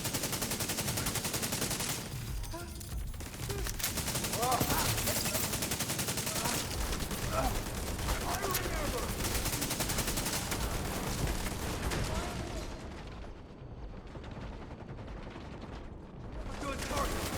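Gunfire in The Division 2 video game: dense, continuous bursts of automatic fire and shots with mechanical clatter, loud and sustained, thinning out briefly near the end.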